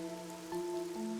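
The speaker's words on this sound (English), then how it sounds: "The rain, it never stops." Steady rain falls continuously in the video game Master Detective Archives: Code Rain, a soft constant wash sitting under a low musical drone, with no talking.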